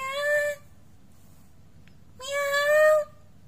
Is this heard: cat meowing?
yes